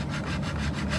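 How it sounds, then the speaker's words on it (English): A hand file rasps back and forth over the head of a metal rivet on an RV awning lift handle, quick close scraping strokes in a steady rhythm. "I'm just filing down the head of the first rivet that I put in."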